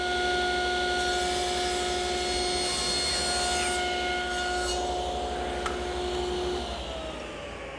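A table saw cutting the corners of a wooden pedestal table leg blank at 40 degrees with a miter gauge: a loud steady whine with a harsh rasping cut that fades out near the end.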